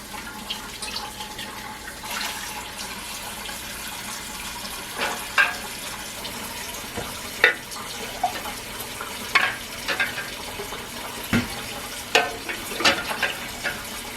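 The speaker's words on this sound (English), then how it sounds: "I'm just going to rinse off my clean pint jars" Tap water runs steadily while clean pint canning jars are rinsed in a kitchen sink, with scattered clinks and splashes of glass handled under the flow, no talking.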